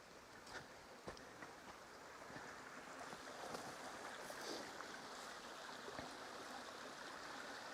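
A small winter river on a farm in Fundão, central Portugal, rushes fast, giving a faint, steady broadband flow with a few light splashes and no talk.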